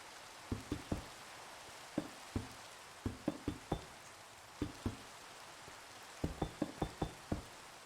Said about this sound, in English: this is not a good way to test while it's raining.